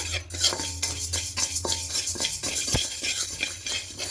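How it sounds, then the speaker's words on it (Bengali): Mung dal dry-roasted in a wok while a spoon stirs it, giving repeated close scraping and clinking strokes against the metal in an uneven rhythm, with no speech. "এবার এটা কড়াইয়ের মধ্যে দিয়ে দেব, দিয়ে হালকা খোলায় একটু ভেজে নেব"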